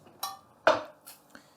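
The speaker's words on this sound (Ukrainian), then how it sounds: "Я взяв ось таку каструльку." A small saucepan is handled while salting a fish head, giving four short metallic knocks and clinks, close and isolated, with quiet gaps between them.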